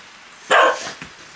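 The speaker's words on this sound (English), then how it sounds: "that's enough barking" A wet dog gives a single sharp bark indoors, followed by a faint short yip. Both are close and loud against a quiet background.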